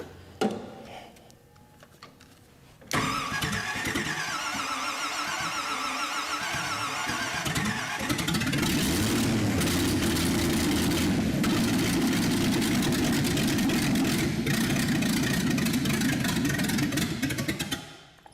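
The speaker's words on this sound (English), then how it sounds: "I'm gonna have to turn this idle up a little bit." A 1972 GMC 3500 wrecker engine idles, starting quietly then rising after about three seconds into a loud, steady, rumbling idle with a ticking beat. It grows deeper and heavier around eight seconds and holds until it fades at the end.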